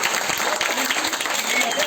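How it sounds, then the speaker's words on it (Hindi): Audience applause at a Savitribai Phule birth anniversary celebration, a short burst of many hands clapping together, close and lively for about two seconds. "तालियां।"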